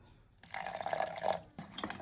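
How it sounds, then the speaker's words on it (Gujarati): A short, close trickle of water pouring into a bowl of dhokla batter, followed by a brief splash. "તો આપણે થોડુંક પાણી ઉમેરીશું"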